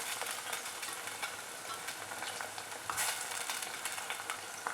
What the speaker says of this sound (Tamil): இது ஒரு 2-3 மினிட்ஸ் நல்லா சாட்டே ஆகிடுச்சு